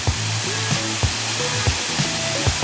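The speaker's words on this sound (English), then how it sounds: "Pretty sweet waterfall." Steady broadband rush of water at Felker's Falls, a waterfall near Hamilton, Ontario, heard from a lookout as a constant close wash of noise with a few faint low thumps.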